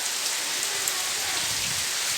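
Heavy rain pours down steadily, a dense close hiss of drops drumming on surfaces with no pauses and no voices.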